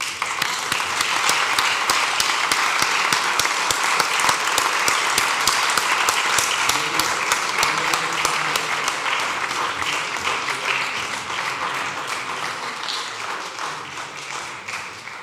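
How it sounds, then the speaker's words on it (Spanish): A loud, close audience applause fills a poetry, music and art gathering, many hands clapping steadily for the full stretch, with a faint rhythmic beat emerging within the claps before it tapers slightly at the end. "Otro aplauso mientras se van a su asiento a su vagón."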